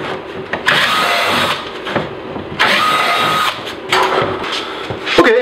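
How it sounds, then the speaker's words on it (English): A handheld power drill bores holes in a DIY pulk sled in loud bursts. It whirs in three or four runs separated by short pauses and ends with a few clunks of handling. No one speaks. "so we'll drill out the rest of these holes"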